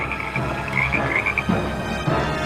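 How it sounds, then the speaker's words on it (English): Many frogs croaking together in a dense, continuous chorus, with repeated harsh calls layered over one another at close range and no voices. "Then came the frogs, countless in number, covering the land."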